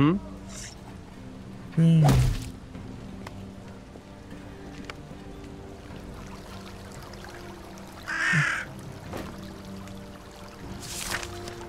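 A raven in the game Drova gives a few brief, sharp caws against a quiet game ambience, with occasional light thumps and soft background effects.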